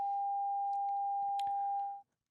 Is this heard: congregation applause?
no